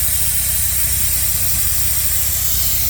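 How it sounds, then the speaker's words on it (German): Air hissing steadily out of an off-road vehicle's tyre as the pressure is let down for a bumpy track, a continuous loud close hiss over a low engine rumble, with no talking. "Lässt der André mal wieder den Reifendruck ab,"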